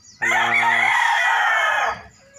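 A rooster in a backyard flock of three-month-old pullets lets out one loud, close crow lasting nearly two seconds, sustained then cutting off.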